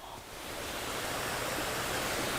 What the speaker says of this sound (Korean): 여기는 물소리가 들려요 또.